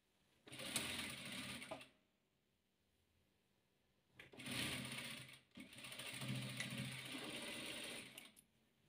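A sewing machine stitches rows of patchwork quilt pieces in three separate runs of rapid, rattling mechanical chatter, with quiet pauses between them and no talk.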